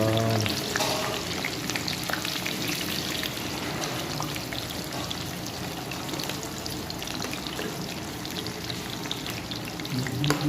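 Potato chips fry steadily in hot oil, a dense, even crackle and sizzle that runs close and loud for the whole stretch with no talking over it.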